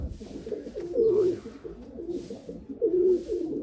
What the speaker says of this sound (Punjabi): ਉਹ ਗੋਲਡਨ ਕਬੂਤਰ